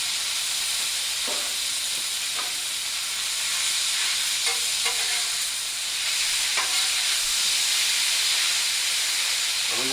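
Rehydrated hash brown potatoes frying in melted butter on a 28-inch Blackstone griddle, a steady loud sizzle and hiss running throughout with a few faint scrapes and clicks underneath.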